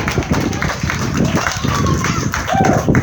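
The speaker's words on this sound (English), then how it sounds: "Give yourself a round of applause." A zoo crowd applauds at an elephant show, a continuous rolling clap with voices mixed in, swelling slightly toward the end.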